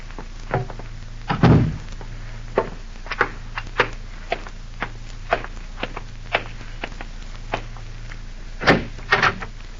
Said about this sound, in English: Close that door, Anna.